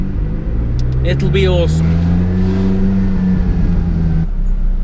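A supercar crawls through a tight, narrow street in Rome, its engine droning and rising in pitch close by, while someone talks over it.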